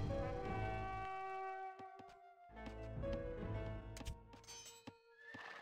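A horse whinnies in the Rise of Nations strategy game, a strong tonal neigh over busy in-game background sounds, with a few sharp clicks and thuds around it.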